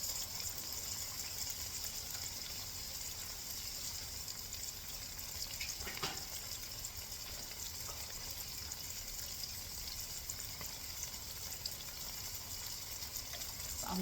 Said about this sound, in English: I'm not sure if you're supposed to rinse off mushrooms.